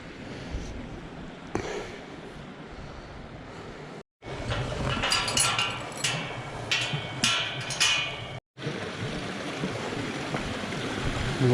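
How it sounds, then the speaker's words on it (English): A bubbling brook near Crosby Garrett rushes steadily in a continuous wash of water noise, close by, with two brief cuts in the sound and no voices. "Lovely bubbling brook."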